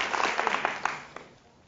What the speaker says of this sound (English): Let's give yourselves a big round of applause.